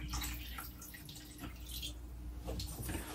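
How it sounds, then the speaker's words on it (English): Water poured into a crock pot holding salmon for poaching, a soft continuous splashing and trickling with brief louder gushes, fairly quiet and steady throughout. "we're going to add just a little bit more water"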